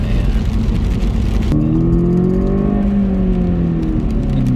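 A VW Polo 6R GTI accelerating hard on a wet road, engine note rising in a strong whir, then dropping and climbing again after a gear change, loud and close from inside the car.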